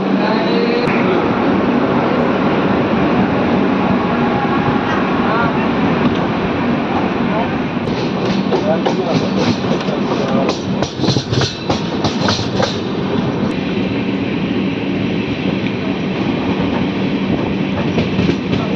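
The Sirpur Kagaznagar–Secunderabad SF Express rolls on toward Aler station with a loud, steady rumble and rhythmic clickety-clack of wheels over rail joints, heard from inside the coach.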